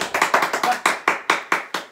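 A handful of hands clap in a steady, quick rhythm, close and fairly loud, about ten claps with no voices.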